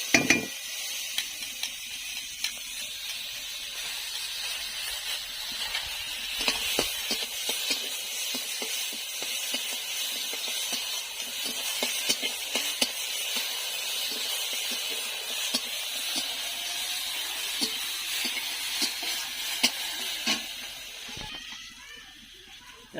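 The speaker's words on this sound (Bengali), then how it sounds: "এবার আমি হালকা করে ডালটা ভেজে নেব।" Washed lentils (dal) are lightly dry-fried in a pan at home, giving a steady, fairly close hiss with scattered scraping clicks and rattles for over twenty seconds, briefly quieter near the end.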